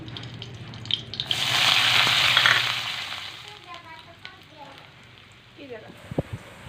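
Paneer-recipe ingredients frying in a pan: a loud sizzling surge that swells as food hits the hot oil, then fades to a softer crackle with scattered utensil clicks and scrapes.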